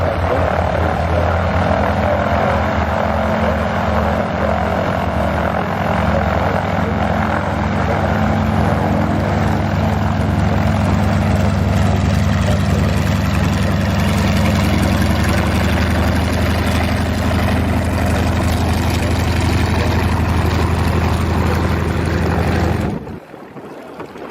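Aircraft engines at the Wings Over Wairarapa airshow, a loud, steady, droning roar that holds for over twenty seconds before cutting off abruptly, with no voices.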